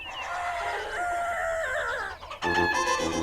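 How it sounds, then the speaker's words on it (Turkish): Loud, nearby rooster crowing at sunrise with a long wavering call, followed by a brighter burst of squawking fowl. "Horoz her sabah güneş doğduğunda böyle öter."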